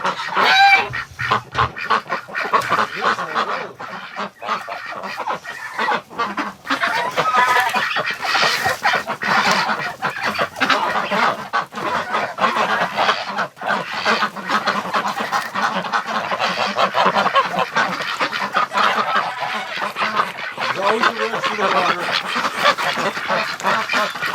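Ducks and geese quack and honk continuously inside a barn, a noisy wintering flock close by with overlapping calls and no pauses.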